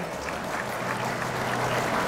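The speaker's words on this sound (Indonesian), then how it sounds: "Kita berikan tepuk tangan yang meriah buat beliau." Steady, dense applause from an audience at a political gathering for a party chairman, a continuous even wash of clapping from a crowd that holds at the same level for the full two seconds.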